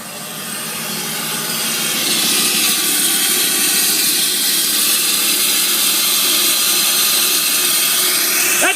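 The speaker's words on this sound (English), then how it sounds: "Do you want to hear the exhaust brake outside the truck?" Exhaust brake on a 2001 Dodge Ram 2500 with a six-speed Cummins diesel, heard from outside the truck: a broad, rough roar that builds over the first couple of seconds, then holds loud and steady.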